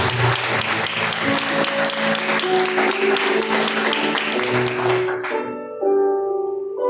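A church congregation claps in praise during a live worship service, dense and loud with a sustained musical tone beneath, then the clapping cuts off abruptly and the music continues alone.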